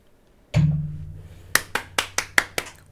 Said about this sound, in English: That's some clapping and canned laughter in the background.